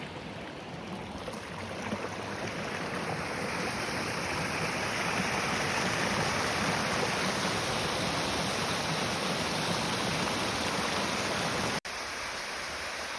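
Water pouring over a coal mine drainage weir at the Keystone Mine Complex, a dense, continuous rushing roar heard up close at the bottom of the weir, with no talk.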